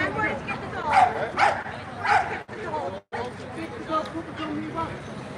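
A dog barks and yips repeatedly among a crowd on a peaceful street march through Ballymena, under steady talk and crowd babble.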